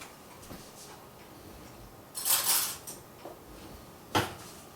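Metal cutlery clinks as a spoon is picked out in a kitchen, a few brief bright rattles of silverware against each other, with a scrape in between, close and fairly quiet.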